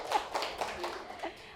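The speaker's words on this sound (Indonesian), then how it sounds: "Kita tepuk tangan dulu untuk siang hari ini." An audience in a university teaching session claps hands, a few scattered, faint claps spread unevenly across a short stretch in a quiet room.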